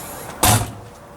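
A slam-latch baggage door on a 2016 Forest River Berkshire XLT diesel RV shuts with a single loud, sharp thud that fades quickly, close by.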